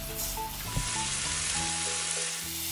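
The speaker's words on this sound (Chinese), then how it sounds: "加入白葡萄酒，炒一下，让酒精蒸发" White wine sizzles steadily in a hot pan as cooked pasta with bacon is stir-fried to cook off the alcohol, a continuous close frying hiss with a brief stirring knock partway through.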